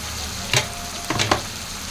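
Chicken curry stirred in a pan, three quick scraping strokes over a constant sizzle, close up with no talking.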